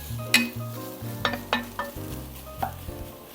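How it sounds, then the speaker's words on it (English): Onions being stirred and broken up in a soup pot for colcannon soup: several sharp spoon scrapes and clacks against the pot over a low, steady sizzle, close by with no talking. "So I'm breaking these onions up."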